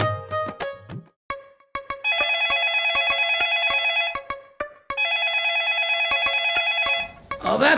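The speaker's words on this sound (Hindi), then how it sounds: "अबे किसका फोन आ गया?" A telephone rings in electronic bursts: a short opening trill, a few separate beeps, then two long sustained ringing stretches with a brief pause between, followed by a faint noise at the end.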